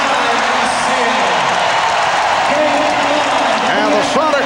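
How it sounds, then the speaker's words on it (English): Arena crowd noise at an NBA Finals basketball game between the Chicago Bulls and Seattle SuperSonics as the first half ends, a loud, continuous roar with scattered whoops and cheers, overlaid by broadcast commentary. "And the Sonics are hearing it from the crowd."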